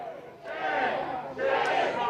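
A protest crowd shouting at ICE agents outside a building, two swelling bursts of many voices yelling together, loud and close.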